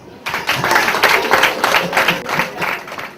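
Wedding guests break into applause, a dense burst of clapping with rhythmic pulses that starts abruptly and carries steadily for about three seconds.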